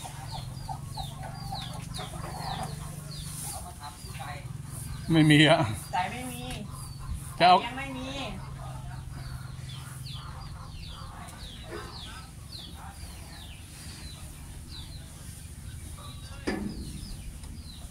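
Chickens cluck repeatedly on a Thai farm alongside a few roosters, steady nearby calls running under ongoing conversation in Thai.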